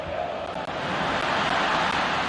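Stadium crowd in the FIFA 23 video game, a broad, steady roar of many voices with swelling cheers, fairly distant and even, with no distinct individual shouts.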